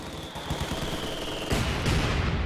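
Heavy machine gun fire in a Company of Heroes-style real-time strategy game, rapid continuous bursts of close gunfire that swell louder midway through amid dense battle noise.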